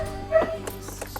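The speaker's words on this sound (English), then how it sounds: "And I think you can hear our dog barking." A dog barks and yips a few times close by, short sharp bursts with a brief whimpering edge, heard alone over a faint background hum.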